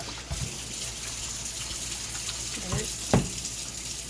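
Tap water runs steadily into a sink while white rice is rinsed, a constant close hiss with a few clunks and splashes from handling.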